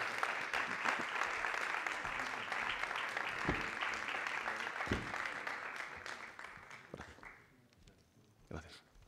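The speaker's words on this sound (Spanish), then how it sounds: "Ese fuerte aplauso para ellos." Crowd applauding at a football club's new signing presentation, a steady wash of clapping with sharp individual claps that thins out toward the end, fairly distant and moderate in level.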